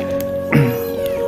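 A single short cat meow cuts in briefly against a steady tonal hum, close and clear.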